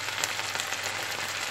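Onions and tomatoes frying in a little butter in a pan give a steady, soft sizzle with fine crackling, even and continuous with no talking.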